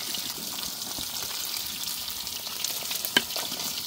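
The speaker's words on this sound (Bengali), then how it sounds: "এখন রান্না করা হচ্ছে ফিরনি।" Firni made from eight kilograms of milk cooks in a large pot for a wedding feast, a steady hissing, bubbling texture with stirring throughout and one brief louder clink near the end.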